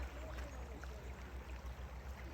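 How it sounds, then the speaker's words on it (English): The Youghiogheny River flows past a campground, a faint, steady watery rush with a soft low rumble beneath it, heard from nearby with no talking. "And there's the river."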